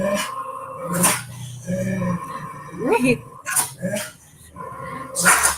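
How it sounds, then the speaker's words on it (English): Dogs barking and scuffling in a fight inside a home, sharp yelps and growls bursting out in clusters over a few seconds, mixed with people talking close by. "dogs are fighting here now."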